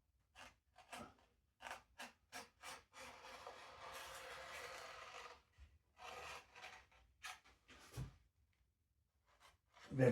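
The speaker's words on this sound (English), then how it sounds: "I think that'll have gone off enough now to be able to trim the cockpit area out" Knife or scissors trimming doped fabric covering from the cockpit area of a Fokker Dr1 model aircraft, heard as a series of close, short scraping and cutting strokes with a longer continuous rasping cut in the middle.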